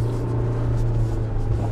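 A Suzuki Jimny crawls over a rough, jagged off-road course, its engine a steady, loud, low rumble and hum through a brief stretch with no talking.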